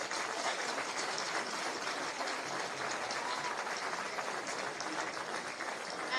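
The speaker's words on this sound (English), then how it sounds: "a big round of applause for Coleraine" A crowd at a Derry ladies Gaelic football intermediate championship cup final between Coleraine and Magherafelt gives a round of applause, steady dense clapping heard from a little distance, without any talk.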